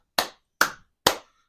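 Three sharp hand claps, evenly spaced about half a second apart, close and crisp, each followed by silence.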